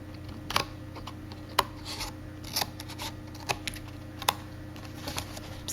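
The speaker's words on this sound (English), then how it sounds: "I'm going to go ahead and trim my roses as well." Paper roses on a handmade card being trimmed with scissors, a handful of crisp, separate snips and small rustles spaced irregularly, close and fairly quiet.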